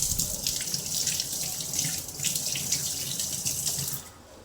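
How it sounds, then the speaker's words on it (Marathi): Hands are rinsed under a running kitchen tap, a steady close splashing stream with small shifts as the hands move, ending abruptly when the water is turned off. "थोडे मी हात वॉश करून घेते."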